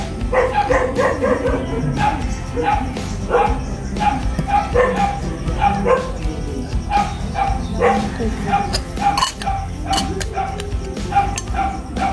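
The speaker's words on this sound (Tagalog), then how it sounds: "maraming aso dito sa amin" Several dogs bark repeatedly nearby in a neighbourhood, loud overlapping barks and yips in an irregular, nearly continuous chorus, with a voice talking underneath.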